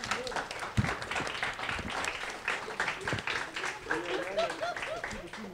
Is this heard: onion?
no